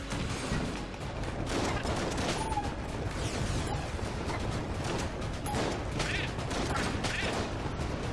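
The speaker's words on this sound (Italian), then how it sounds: "Così adesso sparo le fiamme viola." A weapon in the video game Enter the Gungeon fires a loud, continuous stream of purple flames, roaring and crackling with rapid bursts throughout, dense and close with no pauses.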